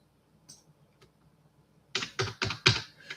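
Keys on a computer keyboard are struck close up: a few faint isolated taps, then a quick burst of four or five louder clacks in a row.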